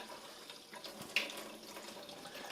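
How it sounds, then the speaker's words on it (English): Water from an AquaFlo QCRO reverse osmosis system faucet runs in a faint, steady hiss, with one brief sharp click partway through. "and shut down the faucet."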